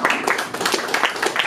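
An audience at a café debate breaks into brisk applause, a dense patter of many hands clapping close by, continuous and fairly loud.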